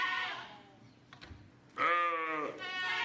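A sheep bleats loudly and nearby on a farm in a long, wavering call, then a second shorter bleat follows after a moment of quiet.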